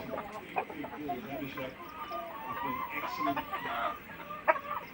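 Large, lively vaccinated roosters and laying hens on a poultry farm in Tangail cluck and squawk continuously, with several birds overlapping nearby and a sharper call near the end.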